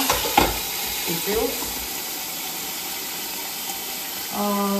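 Chicken for shkmeruli sizzles steadily in a pan under a weight, a loud, even frying hiss with a few clinks and a stirring scrape near the start.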